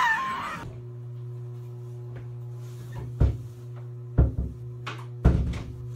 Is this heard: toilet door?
yes